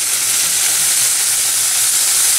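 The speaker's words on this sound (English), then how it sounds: "You start to hear that sizzle, and that means it's starting to brown and to caramelize." Meat browning in a pan after its water cooks off, a loud steady sizzle and hiss of frying that fills the whole short stretch with no voices.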